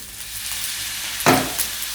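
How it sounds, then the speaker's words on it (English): Drained rice with peas and sweet corn tipped into a hot pan, a steady close sizzle that briefly flares louder as food hits the oil. "and it should be sizzling"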